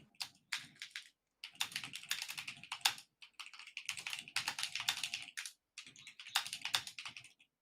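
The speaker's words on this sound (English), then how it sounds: "your typing sounds ASMR" Rapid clattery keystrokes on a computer keyboard come in quick bursts separated by short pauses, close and fairly quiet, with no voices over them.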